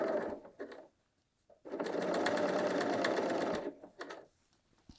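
A Bernina L 890 sewing machine stitches a quarter-inch seam attaching a knit neckband, running in short starts and stops and then one long, steady burst of close, even whirring.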